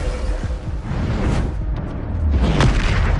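Bombarda blasting spell detonating in Hogwarts Legacy, a deep booming explosion with whooshing rumble that swells and rolls on through the clip, with further blasts building toward the end.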